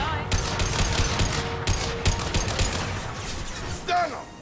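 Automatic Avenger rifle fired in short bursts in the video game Mass Effect Legendary Edition, a dense stream of rapid shots with small gaps between volleys, loud and close, with game sound and faint voices underneath.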